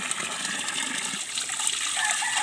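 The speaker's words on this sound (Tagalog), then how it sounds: "ganyan siya pag umaapaw yung tubig" Spring water flowing up from underground in the mountains spills over a rocky basin and forms stalagmite-like shapes. It gives a steady, close, hissing gush that stays continuous throughout.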